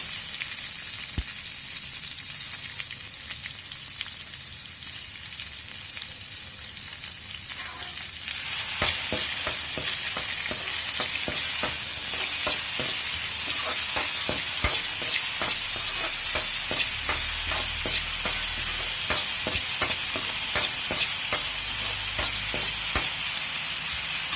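Fenugreek, cumin, garlic and onion fry in hot oil, a steady loud sizzle that swells and crackles more densely partway through, with repeated scraping stir strokes and no voices.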